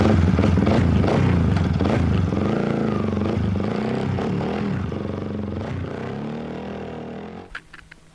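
A petrol motorcycle idles and chugs nearby, then rides off, its engine fading with distance until a brief clatter at the end.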